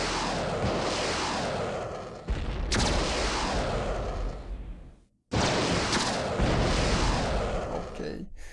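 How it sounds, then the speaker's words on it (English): A craft in the OpenEpoch space game firing at incoming missiles: dense bursts of rapid gunfire and explosions in two long volleys broken by a short gap, with a voice talking over it. "When the Phoenix fires missiles, this craft will start like shooting at it"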